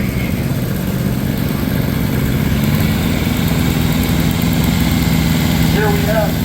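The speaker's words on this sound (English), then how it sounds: "this is our old road grader that we still use. It's an Adams Road Patrol number 3." An old Adams Road Patrol No. 3 road grader idles at a steam power show, a steady low engine chug running loud and continuous throughout, with a voice talking over it.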